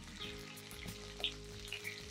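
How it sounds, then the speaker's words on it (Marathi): Sliced okra fries in oil in a pan over low heat, a continuous close sizzle with light crackles and occasional brighter pops. "आता इथं तेलामध्ये आपली छान भेंडी परतून झालेली आहे."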